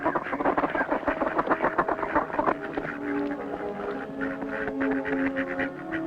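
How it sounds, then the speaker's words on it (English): Several mallard ducks quack and chatter in a busy, overlapping chorus, close by, with steady outdoor background noise throughout. "Mallards manifest behavior associated with courtship all winter long."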